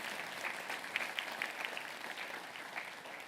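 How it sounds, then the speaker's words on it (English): Distant, faint applause from the audience at a Breakfast for Justice legal aid event, a few seconds of scattered, soft clapping with occasional sharper claps standing out. "Would you give one more round of applause for Miss Herrera de Leon, Miss Mercado"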